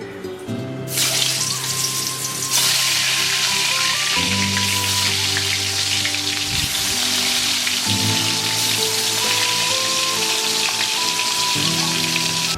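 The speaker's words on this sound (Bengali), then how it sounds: "তেল গরম হয়ে গেছে, এবার আমি মাছগুলোকে ভেজে নেব।" Pieces of wallago fish frying in hot mustard oil in a kadai, a steady, close, loud sizzle that hardly changes over the whole stretch. A faint tonal hum sits beneath it.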